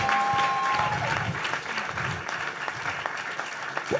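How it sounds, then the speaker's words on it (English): Audience clapping for Reverend Julian at a leadership empowerment summit in Kenya, a dense, steady wash of applause that fills the hall throughout, with faint voices mixed in beneath it. "Please, let's give Reverend Julian a big hand clap,"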